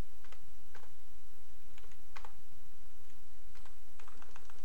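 Typing on a QWERTY computer keyboard during a Linux install, heard as soft, irregular clusters of key clicks with short pauses between bursts, faint and close, with no voices.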